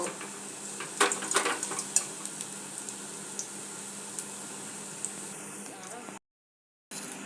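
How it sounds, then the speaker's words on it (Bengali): Palm fruit sweets (taler misti) frying in hot oil give a steady low sizzle with scattered clicks and scrapes of a utensil against the pan, close and fairly quiet, broken by a brief silent gap near the end. "এরকম লাল লাল করে ভেজে নিতে হবে।"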